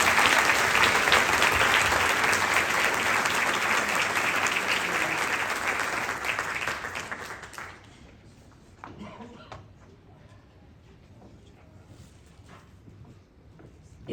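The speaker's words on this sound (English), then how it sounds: "Let's give them another round of applause." Audience applause at a 2023 school graduation ceremony, loud and sustained for about seven seconds before fading out, leaving quiet room noise with a few scattered claps and shuffles.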